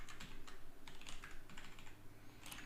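Rapid typing on a computer keyboard while coding an authentication token, a close, steady patter of key clicks running throughout without speech.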